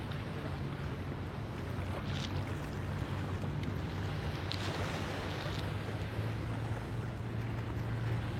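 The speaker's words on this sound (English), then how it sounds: "If you guys can hear the water." Water laps near the shore on a February day in Miami, a steady broadband wash with wind noise and a low engine-like hum running through it, no talking.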